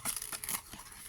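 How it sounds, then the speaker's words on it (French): Protective backing peels off double-sided adhesive tape on a handmade scrapbooking card. Soft, close crinkling and tearing rustles last about a second and stay faint and brief. "j'enlève le scotch, enfin la protection du scotch exactement."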